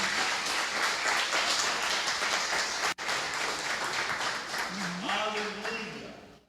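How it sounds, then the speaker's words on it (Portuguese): A church congregation claps loudly for the Lord during a sermon, a dense sustained roar of hands that briefly cuts out, then resumes as a voice begins speaking and singing over the fading applause. "Alguém pode aplaudir ao Senhor bem forte"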